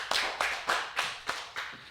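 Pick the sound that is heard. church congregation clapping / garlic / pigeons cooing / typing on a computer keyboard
church congregation clapping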